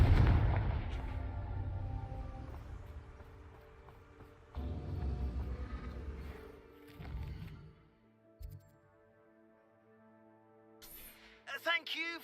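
Fire spell blasts from Hogwarts Legacy boom and rumble loudly at the start, then ease into softer bursts and fading rumble with musical tones. Sharp crackling flares return near the end. A voice is heard briefly.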